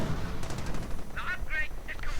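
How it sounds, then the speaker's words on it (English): Gunfire and sniper shots crackle in a strategy video game battle as Rangers push toward a central point, brief bursts popping over a steady noisy background. "Getting shot at, getting sniped at."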